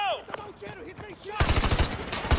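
Rapid automatic gunfire bursts in the game Modern Warfare 2 Remastered, loud and close, breaking in suddenly after a quieter stretch and running steadily to the end.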